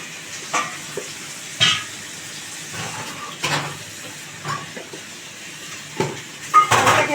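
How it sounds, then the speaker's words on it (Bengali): Chow mein being stirred in a pan with salt and turmeric, in a home kitchen: a steady soft sizzle with a string of scraping stir strokes at irregular intervals, close and moderately loud, no talking. "এটাকে নাড়াবো।"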